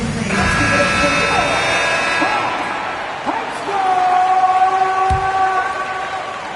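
Basketball arena buzzer ending a quarter in a Hawks and Chicago game, a long flat electronic tone sounding over crowd noise and commentary, with a second buzzer blast following after a short gap.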